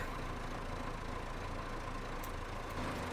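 A vehicle engine idles steadily in the video game Farming Simulator on a steep hillside harvest, with a constant low drone and no change in pitch throughout.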